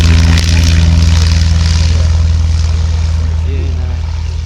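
A North American Navion propeller aircraft getting airborne at an air and car show, a loud steady engine and propeller drone that slowly fades as it climbs away, with a commentator talking over it.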